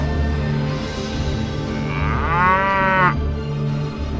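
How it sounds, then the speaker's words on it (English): Cows moo in the video game Master of Atlantis, a loud drawn-out bovine low rising over a steady game soundtrack and ambient hum, with no talking over it. "And all my walkers turn into cows."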